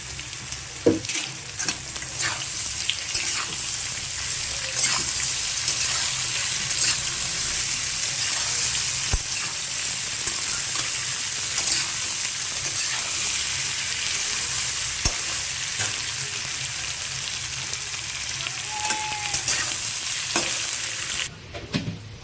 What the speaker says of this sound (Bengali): আলুটার মধ্যে আমি পেঁয়াজটা দিয়ে দিলাম